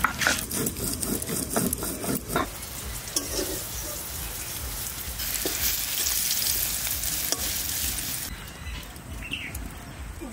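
Cumin seeds hit hot oil in a pan and crackle into a bright, dense sizzle with clicking and scraping from stirring, continuing steadily throughout with no voices.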